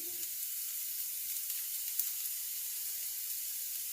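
Chopped garlic sautéing in a hot pan for a vegetable medley gives a steady, close sizzle and hiss with small crackles and pops scattered through it. No voices are heard.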